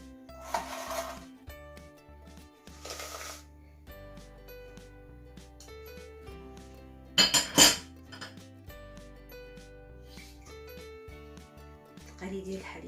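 A spoon stirs madeleine batter mixed with cocoa and milk in a bowl, making soft scraping and scattered metallic clinks, with a brief louder clatter of utensil against bowl in the middle.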